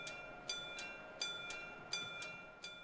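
A hydrogen fuel-cell tram running along its track, heard as a steady low rolling rumble with a faint tonal whine and regular rail clicks recurring about every half second.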